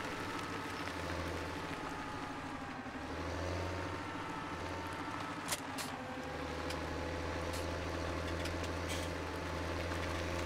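A tractor engine idles in Farming Simulator 17 with a low, steady drone that swells and dips, joined by a few faint clicks and ticks, and no talking.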